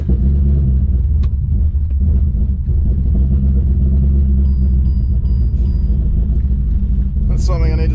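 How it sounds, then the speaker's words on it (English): A cammed Ford BA GT (GTHO) engine cold-starting and idling with no throttle, a loud, steady low rumble throughout, with a brief higher-pitched squeal near the end. "Let's go, no throttle on cold start."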